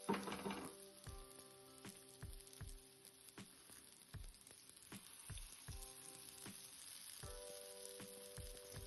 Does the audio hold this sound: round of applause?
no